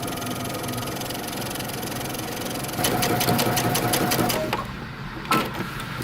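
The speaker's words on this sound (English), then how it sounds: "And then we're going to top stitch again." A sewing machine topstitches jeans with a continuous close mechanical hum that quickens in the middle, then slows with a few clicks before stopping.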